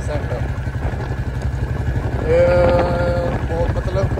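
Motorcycle riding on a cool, rainy day, with a low, steady engine drone and road rumble throughout, and someone talking over it close to the microphone.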